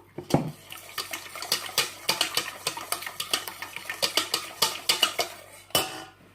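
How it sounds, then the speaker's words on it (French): Three or four eggs with a pinch of salt beaten in a salad bowl for crêpes: a quick, steady run of metal-on-bowl clinks and taps, fairly close, with no voices. "Dans un saladier, on va battre les œufs, les 3 ou 4 œufs avec une pincée de sel"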